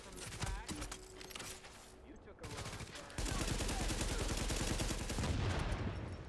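Rapid gunfire from Tom Clancy's The Division, heard during a Dark Zone beta match: dense bursts of automatic shots, continuous and close, that grow louder and heavier partway through while a player talks over them.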